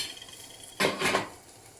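Asparagus tips hit a pan of hot butter with a sudden hiss that swells, flares for about a second, then settles into a softer sizzle after a quiet moment of faint kitchen noise.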